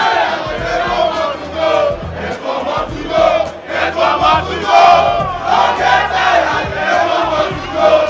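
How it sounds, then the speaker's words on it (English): Football fans in a packed stadium crowd chanting steadily and loudly throughout, a dense wall of massed voices with rising and falling surges, no single speaker standing out. "you can see a section of the crowd churning out chants"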